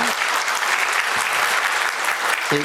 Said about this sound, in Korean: 원로 목사님과 사모님 한번 환영하는 우리 박수를 드리겠습니다